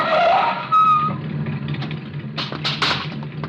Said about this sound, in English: just as a car turns the corner